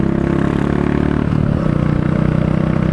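Close and loud, a Royal Enfield Meteor 350 motorcycle engine pulls with low-rev torque, its throbbing exhaust note climbing in pitch partway through as it accelerates.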